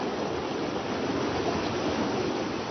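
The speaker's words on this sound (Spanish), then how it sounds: "El sonido del río Caquetano ha cambiado mucho." The Caquetá river flows with a constant broad rushing wash, even and unbroken throughout, heard alone without any voices.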